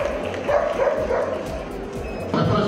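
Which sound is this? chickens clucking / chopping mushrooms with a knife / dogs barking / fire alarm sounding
dogs barking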